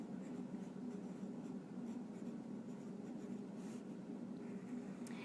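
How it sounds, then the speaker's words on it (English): A pen or pencil scratches steadily across paper while a word is written, a close, continuous soft rasping that carries on alone without any voices. "on the second line I'm just going to write the word definition"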